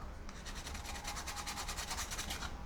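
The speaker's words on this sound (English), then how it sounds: "Getting things ready, do some sanding." Steady, rapid rasping strokes of sanding on a hard plastic model kit part, close up and fairly quiet, repeating evenly with no voices.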